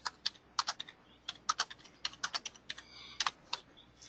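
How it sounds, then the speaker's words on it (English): Quick, crisp keystrokes come from a computer keyboard, tapped in an uneven rhythm of clicks for about four seconds. The typing is close and clear, with no talk over it. "Oh, nice typing."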